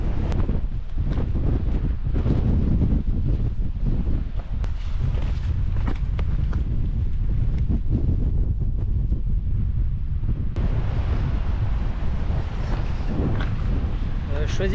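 Waves crash against the rocky cliffs of the Crozon peninsula under heavy, buffeting wind, a constant loud roar of surf and gusts while a voice speaks intermittently.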